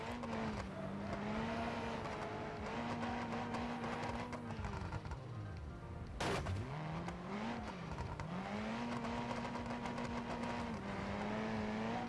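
A small car driving in the game BeamNG.Drive, its engine droning steadily with pitch rising and falling as it revs, a sharp dip and crash-like burst midway, then steady running again; no talk.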